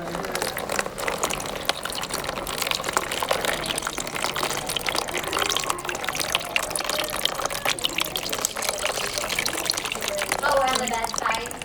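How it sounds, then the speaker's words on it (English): Water is dumped and poured through steadily, a continuous splashing rush at moderate level throughout, with faint voices underneath. "I'm just gonna dump a bunch of water through here"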